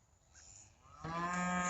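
A cow on a farm with calves gives a single loud, drawn-out moo that swells in the second half, close by and alone with no talk.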